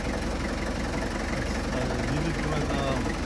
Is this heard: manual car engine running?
yes